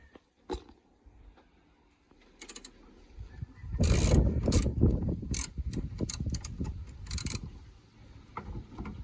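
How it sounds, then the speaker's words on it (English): Ratchet with a 10mm socket unscrewing a bumper bracket bolt on an E46 BMW 330: a few faint isolated clicks, then a dense run of rapid ratcheting clicks and mechanical rattling for several seconds, close and clear, with no talk. "you're gonna take a 10mm socket. You're gonna take your ratchet, and you're gonna unscrew it"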